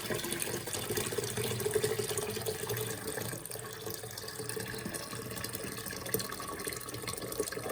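Warm water from a pitcher poured into the sides of a plastic density flow convection model, a steady continuous splashing trickle that eases slightly midway, with no talking.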